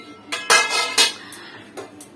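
Plates topple and clatter in a home kitchen, several sharp ringing crashes in quick succession followed by two lighter clinks, close and loud.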